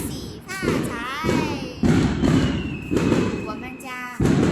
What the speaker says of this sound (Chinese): 现在天已经亮了，但是炮竹和那个烟花的那个声响还是没有停过